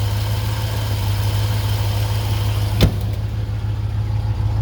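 A 1933 Ford rumble seat roadster with a fuel-injected 350 V8, Turbo 400 and dual exhaust through turbo mufflers idles steadily with a deep, even rumble, broken by one brief sharp click midway.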